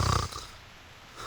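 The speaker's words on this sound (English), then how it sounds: "What we want to know is how an apple can snore." Cartoonish snore from an apple character in Reverse 1999, one short rumbling snort up front that fades quickly into quiet game background.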